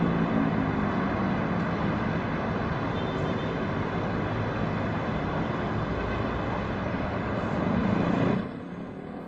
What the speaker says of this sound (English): This Airbus A350 fights for land in strong crosswind.